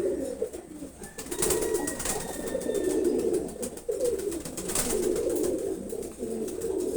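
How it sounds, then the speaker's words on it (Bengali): Silver Gorra pigeons coo in soft, repeated low phrases close by, the calls overlapping in a continuous murmur with a few brief clicks. "খুবই সুন্দর কবুতর জোড়া"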